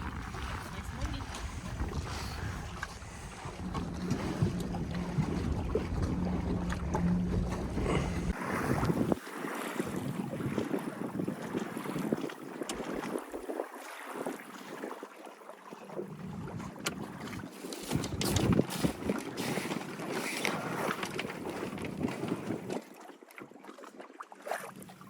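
Steady wind rushes across the microphone while sailing on Lake Roosevelt, with water noise beneath and voices talking now and then; gusts swell louder toward the end.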